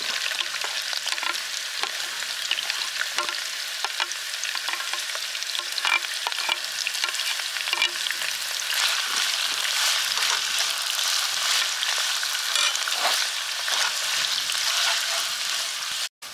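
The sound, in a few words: sliced onions stir-frying with green chilies and curry leaves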